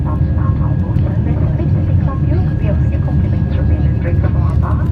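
A British Airways Airbus A320-232 climbs out after takeoff from London Heathrow, a loud, steady engine roar filling the cabin with faint background chatter underneath.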